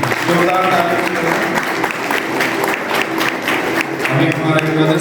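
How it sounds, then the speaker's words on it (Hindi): Loud sustained applause from a gathered congregation at a welcome ceremony for a new bishop in Daltonganj diocese, steady dense clapping for about five seconds with voices in the crowd beneath. "बधाई जोरदार ताली।"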